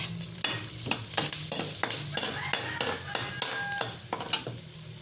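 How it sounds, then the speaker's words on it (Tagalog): Hotdog and sautéed garlic fry in a pan for sopas, a steady sizzle broken by repeated scraping clacks of a utensil stirring against the metal, close and continuous. "una, prituhin natin ang ating hotdog. And then, nagisa na natin ang ating bawang."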